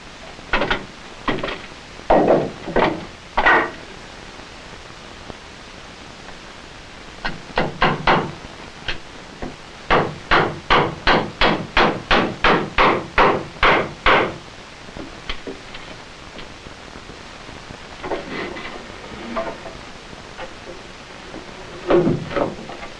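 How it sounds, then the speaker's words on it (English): Nails hammered into wooden bracing between joists for a fallout shelter, sharp wooden knocks in irregular groups, then a fast run of about a dozen even strikes, followed by scattered softer taps. "I'm in the process of putting up the joists, and it's necessary to put bracing between the joists"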